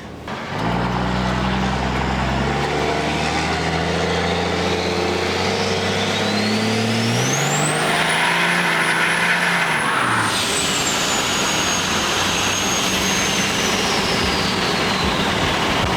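A compound-turbo 5.9 Cummins diesel truck's turbo whistles rising to a high sustained whine as the engine revs and rumbles, then spools down with a lingering exhaust drone.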